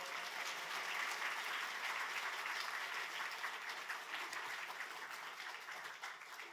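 Wednesday-service congregation at Yoido Full Gospel Church applauding to welcome a visiting missionary, a sustained, even wash of clapping from a large crowd, heard at some distance and fairly soft.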